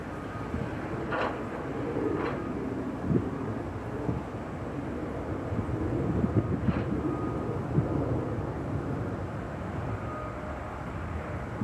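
Jet airliner noise at Chicago O'Hare airport, an Aer Lingus plane, rumbles steadily at a distance, broad and moderately loud with wind buffeting mixed in throughout.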